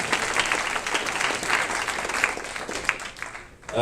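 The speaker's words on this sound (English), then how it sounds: "let's give a round of applause for everybody who helped put this on" A crowd at a Princeton hackathon gives its organizers sustained, dense applause, with many overlapping claps forming a loud, continuous wash that tapers slightly near the end.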